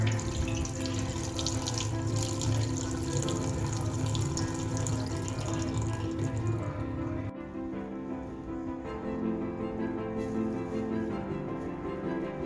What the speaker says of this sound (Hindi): तो अब इस पानी को जो है वो हमने सिंक में फेंक देना है।